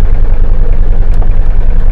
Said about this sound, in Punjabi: 2400 ਸੀਸੀ ਇੰਜਨ ਆ ਭਾਈ ਇਹਦਾ ਔਰ ਤੁਸੀਂ ਇਹਦੀ ਆਵਾਜ਼ ਸੁਣ ਸਕਦੇ ਹੋ ਗੱਡੀ ਦੀ